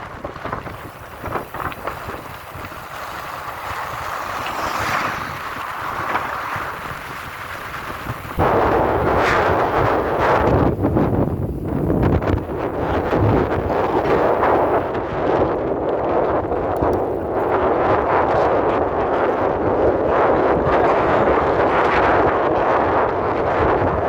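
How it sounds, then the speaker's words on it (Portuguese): Strong headwind buffeting a cyclist riding into it, a loud continuous roaring rumble that grows heavier and more constant after the first few seconds, with no talking. "O vento tá forte hoje."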